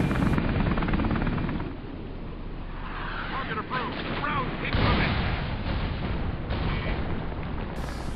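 Booming artillery fire and explosions from the video game Enemy Territory: Quake Wars, a dense, continuous barrage of heavy blasts and rumble with a sharp surge of impacts midway, loud and sustained throughout.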